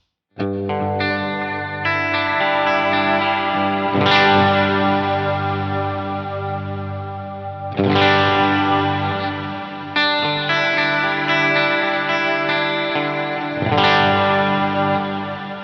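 Distorted electric guitar chords ring out with a shimmering, wavering chorus effect from an HX Stomp or Helix, struck in a slow repeating pattern and left to sustain.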